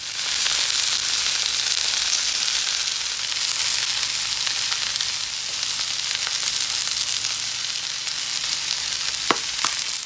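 Calzone filling ingredients sizzling in a frying pan, a steady, close hiss with a few small pops near the end and no talking.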